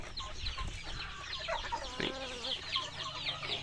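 Several chickens, including a rooster, cluck and chatter nearby in a steady, busy barnyard mix, with scattered higher calls over a low background hum.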